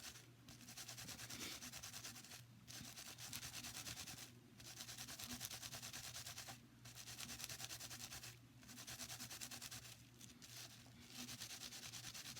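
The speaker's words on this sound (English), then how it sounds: "we're going to give it a little bit more of a rub" Wet felt is rubbed by hand around a Nespresso coffee pod, a soft, close, continuous scrubbing in long strokes with short pauses between passes.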